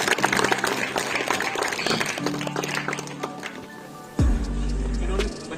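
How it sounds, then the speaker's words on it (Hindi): Applause breaks out from the audience at a school science exhibition at Paryas Hemkrish Model High School in Ramban. It is mixed with crowd noise and a steady hum, and a deep rumbling swell takes over near the end. "जोरदार तालियां इनके लिए।"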